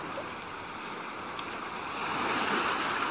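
Ocean surf washes in a steady broadband roar that swells slightly louder toward the end, with no voices.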